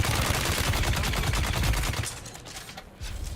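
Rapid automatic gunfire in a multiplayer survival shooter, a loud, dense stream of shots close up that cuts off briefly near the end before resuming.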